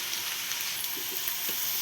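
Okra and green chilies frying in hot oil in a home kitchen pan, a steady soft sizzle with faint crackles throughout, no voices.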